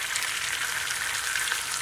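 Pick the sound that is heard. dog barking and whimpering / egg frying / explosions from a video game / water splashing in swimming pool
egg frying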